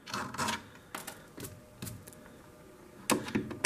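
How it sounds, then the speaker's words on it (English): A Phillips screwdriver works screws out of an 8-track player, giving a series of separate sharp clicks and small metallic rattles with quiet gaps between them, close by and without talk. "Take out 2 screws."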